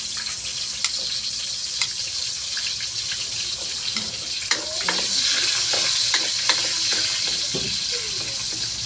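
Garlic and onion sautéing in a pan on a home stove, a constant sizzle with frequent spatula scrapes and stirring clicks, close and steady without talk.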